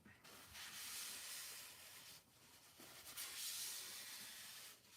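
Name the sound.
spraying water from spray bottle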